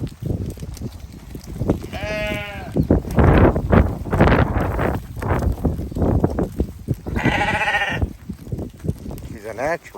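Sheep on a farm let out two loud, wavering bleats a few seconds apart, mixed with rustling, movement noise and people talking nearby.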